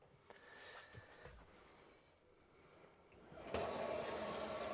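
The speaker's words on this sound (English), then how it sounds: "Just showing that your water system's working, and that is your hot water there." Hot water starts gushing from the tap of a 2024 Adria Twin Sport 600SX caravan into its sink, a sudden steady rush after a few faint clicks and near-silence.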